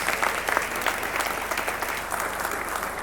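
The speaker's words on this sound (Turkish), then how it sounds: "Lütfen kendinize bir alkış gönderin." A crowd at a sales and communications awards ceremony applauds steadily, a dense wash of many hands clapping at moderate volume over a faint low hum.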